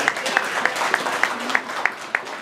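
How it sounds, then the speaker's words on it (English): An audience at a restaurant opening event claps in an even, rhythmic beat of distinct hand claps over a soft crowd murmur, moderately loud. "You give a round of applause for that."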